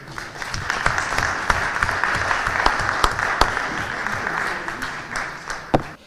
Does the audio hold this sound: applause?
yes